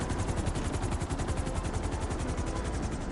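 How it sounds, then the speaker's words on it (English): A helicopter in GTA Online during the Cayo Perico Heist, its rotor chopping in a steady, fast, loud pulse that fills the short clip alone, without talk. "This helicopter is most likely going to despawn"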